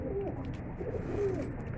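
Soft, low coos from caged pigeons repeat a couple of times over a steady background hum.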